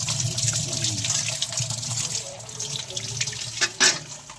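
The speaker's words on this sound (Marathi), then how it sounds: "आता चिंबोऱ्या ते स्वच्छ पाण्यामध्ये धुवून घेऊ." Mud crabs being washed in clean water, with running tap water and splashing in a sink, close and continuous, ending in a few louder sloshes and drips.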